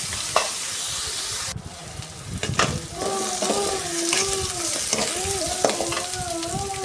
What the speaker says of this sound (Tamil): ஒரு ஆறு வெங்காயத்தை சேர்த்து நல்லா வதக்கணும்